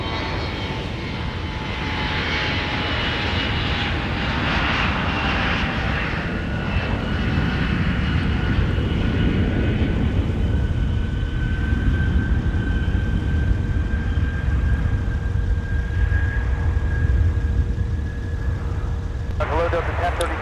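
A jet lands at Minneapolis–St. Paul airport in winter, giving a long, loud, sustained engine roar with shifting whining tones. Radio chatter and talk run underneath.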